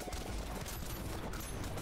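Atomic rocket launcher explosions in a video game, a dense, continuous barrage of overlapping blasts and crackling bursts that stays loud and unbroken throughout.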